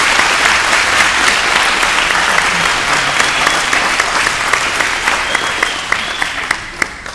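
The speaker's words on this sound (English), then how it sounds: "give your boys and girls another round of applause for this time" Loud, sustained applause from an audience at a Christian school preschool performance, a dense crowd clapping continuously and tapering slightly near the end.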